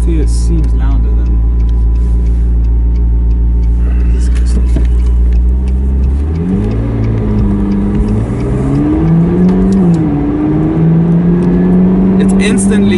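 A McLaren 12C Spider Gemballa engine idles with a deep exhaust burble, then revs up and down in rising and falling swells, loud and close, with voices talking over it.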